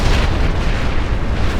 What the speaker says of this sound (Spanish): El fuego alquímico estalló con una atronadora explosión